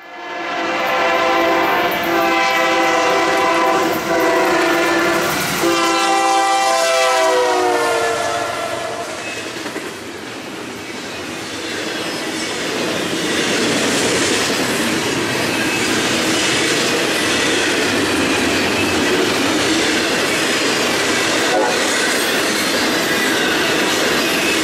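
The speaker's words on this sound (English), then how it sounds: "Here we see a northbound intermodal led by a former Southern Pacific AC-4400." A Union Pacific northbound intermodal train led by a former Southern Pacific AC-4400 locomotive blasts its horn loudly near the start. Then comes a long, steady rumble of passing cars with wheel noise and squeal.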